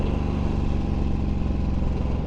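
Suzuki M109R cruiser motorcycle engine holding steady around 3,500 to 4,000 RPM while riding, a loud, continuous low throbbing drone heard close up with no talk.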